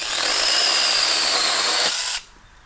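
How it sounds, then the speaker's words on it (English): A small battery mini chainsaw cuts through a log, a loud steady whine with a high tone for about two seconds that then drops off abruptly as the cut ends. "I decided to trim the rest of this log to see if it would fail"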